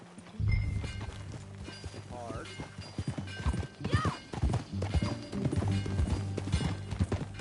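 Horse hooves clip-clopping in the Red Dead Redemption 2 video game, a steady rhythm of hoofbeats under game music and ambience, with a brief whinny-like tone partway through.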